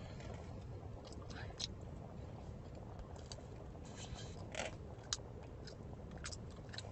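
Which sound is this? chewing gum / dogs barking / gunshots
chewing gum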